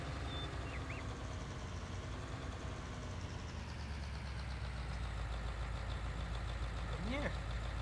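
A tractor engine idles steadily in a Farming Simulator 19 game, a low continuous drone that holds throughout at moderate loudness, with small tonal chirps and game effects over it.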